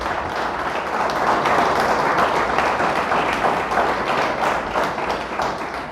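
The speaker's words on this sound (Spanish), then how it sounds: "Le damos un fuerte aplauso a Dios." Sustained applause from a church congregation, dense and even across the whole stretch, loud and fairly close, with no voices standing out.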